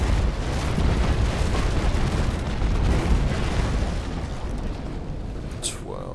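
Cannon broadside from a Naval Action ship striking another ship in a damage test: a sustained, dense rumble of low booms and impacts running about five seconds, loud and close, easing slightly near the end, with a brief high chirp at the close.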